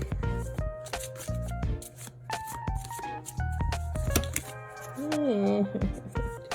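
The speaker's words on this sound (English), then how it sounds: "And the last shuffle for the Moonology deck." A Moonology oracle card deck is shuffled in a flurry of quick, close riffling and papery flicks, with talk and rising musical tones mixed in around it.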